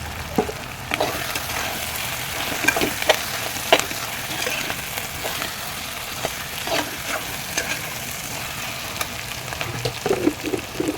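Curry leaves and chili powder sizzle in hot oil for a taro curry, a steady close frying hiss scattered with sharp pops and crackles, with no talking.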